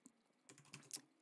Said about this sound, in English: I just typed your name into the search bar